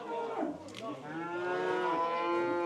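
Cattle low in a livestock pen, with one long, loud drawn-out moo dominating and softer animal sounds and faint voices in the background.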